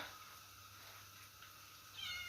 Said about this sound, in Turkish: Nasıl miyavlıyorlar.